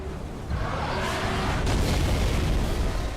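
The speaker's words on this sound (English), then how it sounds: "You shoot it with all the firepower you have until it collapses in a massive explosion, scattering debris across the battlefield." A Scarab walker collapsing in a massive explosion in the Halo video game, a deep booming blast that swells and holds as a loud rumbling roar of debris.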